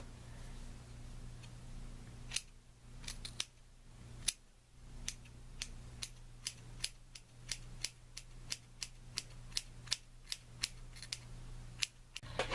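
Scissors snipping through hair extensions to even the ends, a long series of crisp, close metallic clicks, irregular at first then in a steady rhythm, with no voices.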